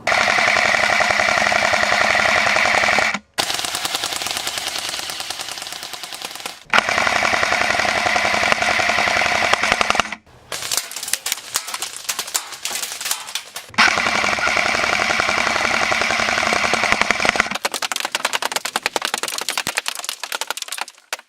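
Dual M4 airsoft turret firing in long, rapid automatic bursts, loud and close, with a mechanical rattling chatter, broken by brief pauses between strings of fire and no talk.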